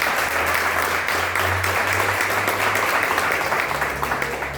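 A church congregation claps steadily and loudly through a worship service, a dense wash of applause with a low hum underneath and no voices standing out.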